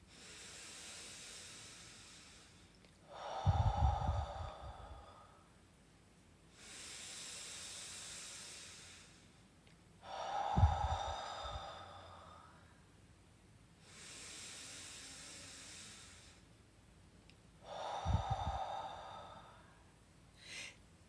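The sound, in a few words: deep belly breathing, in through nose, out through mouth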